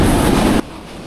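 Rupsha Express, train number 727 of Bangladesh Railway, running above 70 km/h on the rising approach to the high Hardinge Bridge: a loud, dense rushing roar that drops sharply to a quieter rumble partway through.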